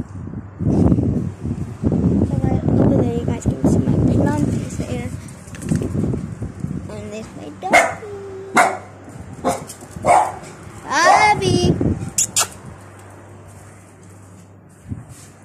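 A dog barks and whimpers near the listener, with repeated yelps and cries mixed with a person's talking in the background.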